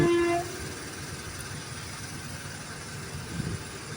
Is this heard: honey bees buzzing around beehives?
no